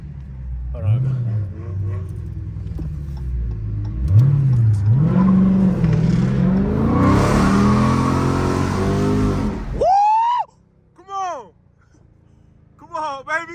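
Dodge Hellcat and Scat Pack muscle cars revving in a street and parking lot takeover, engine notes rising through several pulls into a loud sustained roar, then sharp squealing bursts, with people talking over it.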